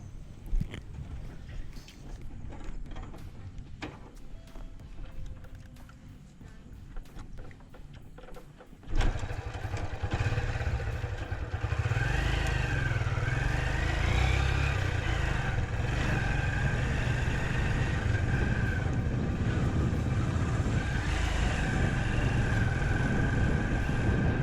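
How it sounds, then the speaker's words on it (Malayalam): A 2004 Yamaha Libero motorcycle riding along a road, its engine first idling quietly, then a steady, loud running drone with rising and falling revs as it travels, heard up close with no talking. "വണ്ടി ഈ റോഡിലൂടെ കുറച്ച് ദൂരം ഒന്ന് ഓടിച്ച് നോക്കാം"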